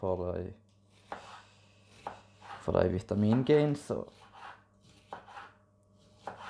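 A knife chops a bell pepper on a cutting board in a home kitchen, making a series of crisp, uneven thuds while someone talks between and over the cuts.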